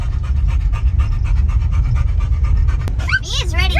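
Dogs pant rapidly and steadily, close and loud, over a low rumbling background, with high whimpering whines rising at the end.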